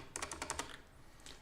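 Quick burst of about six clicky computer keyboard keystrokes, close and fairly quiet, followed by a brief pause and a couple of fainter taps.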